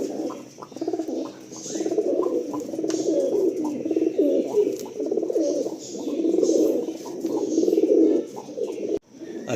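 Tournament-quality pigeons, a male and a female, coo in a steady, overlapping series of low throaty calls close by, continuing for several seconds without speech.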